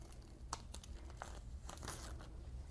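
Heat tape is peeled off orange Siser StripFlock flock vinyl on a fall leaf design, giving soft crinkling and tearing rustles in a few quick pulls, faint and close.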